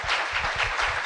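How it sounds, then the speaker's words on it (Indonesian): A television talk-show audience claps in a short, dense burst of applause lasting about a second, with no voice over it. "Tunggu dulu, jangan tepuk tangan dulu."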